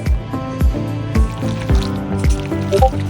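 Butter and cheese being stirred into cooked macaroni in a pot, wet squelching and clacking strokes repeating in a quick, irregular rhythm close up.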